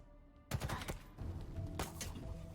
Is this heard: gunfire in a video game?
yes